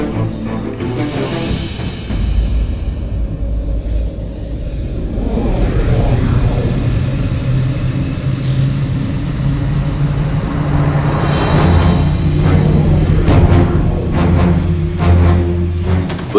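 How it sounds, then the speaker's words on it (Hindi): The mythical flying chariot Pushpak Vimana is rendered as a loud, sustained aircraft-like roar with a rushing jet whine, swelling and holding steady for the whole stretch with no voices. "पुष्पक विमान"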